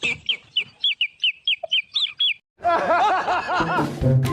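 Chicken clucking in quick, evenly spaced bursts, close and clear, followed by a louder, denser stretch of fowl calls and mixed noise toward the end.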